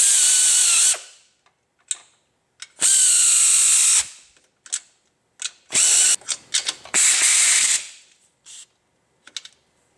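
Tools fit a clutch slave cylinder to the transmission of a Jeep Wrangler Rubicon: several loud, bursty whirring and ratcheting runs of about a second each, separated by silences and short sharp clicks.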